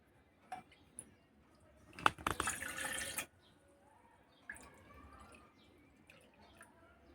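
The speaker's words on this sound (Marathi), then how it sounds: "ह्या चार वाट्या पाणी टाकायचं याच्यात" Water is poured from a bowl onto curd to make buttermilk, a close splashing pour lasting about a second amid quiet kitchen clinks and light drips.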